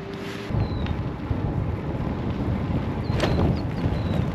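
Steady wind buffeting the microphone during a bicycle ride in southern France, a broad low rumble throughout with gusts swelling near the start and again toward the end.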